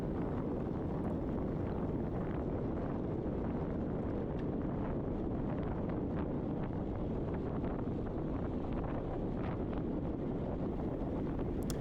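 A headwind roars steadily across the microphone while cycling in a novice criterium race, a constant broadband buffeting with no talk.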